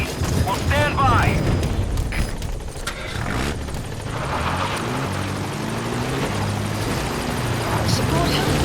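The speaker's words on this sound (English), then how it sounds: "Support helicopter has arrived." A support helicopter arriving in Metal Gear Solid 5, its rotor droning loud and steady throughout with a rumbling mechanical roar, overlapped by in-game radio voices.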